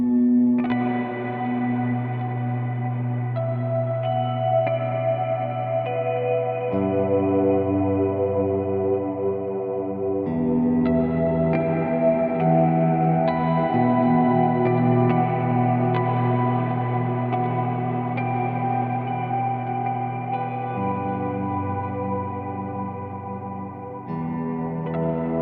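Guitar or bass tone run through a powerful effects device on the CorOS 3.1.0 platform that adds thickness, weight and power, heard as a sustained, dense, layered sound with shifting chords, steady and loud throughout.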